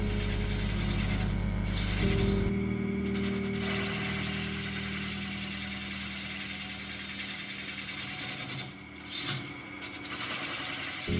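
Bowl gouge hollowing the inside of a wood vase on a lathe, a steady mechanical whir of the spinning piece with a continuous scraping cut, a brief lower hum at the start giving way to sustained grinding.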